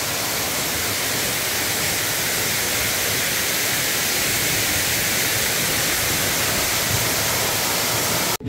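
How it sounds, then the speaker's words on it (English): A waterfall in Madagascar roars in a steady, dense broadband rush heard up close, continuous and loud for the whole stretch before cutting off abruptly at the end. "Let's see how close we can get to the waterfall."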